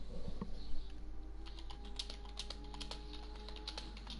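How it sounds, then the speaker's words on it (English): Loud clacking of a computer keyboard typed on in rapid, uneven bursts close to the microphone, with a faint steady hum behind it and no speech. "It's a very loud keyboard"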